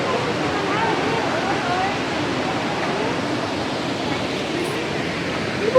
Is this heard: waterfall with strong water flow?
yes